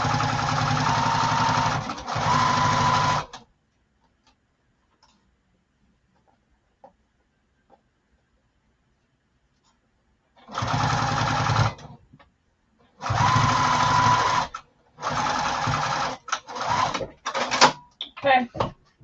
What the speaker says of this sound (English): So make sure it's totally flat when you sew over it.